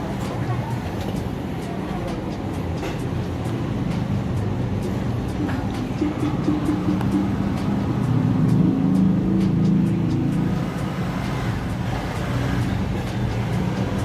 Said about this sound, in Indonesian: posisi tempat saya ada di pinggir jalan raya, jadi agak terganggu suara-suara kendaraan lewat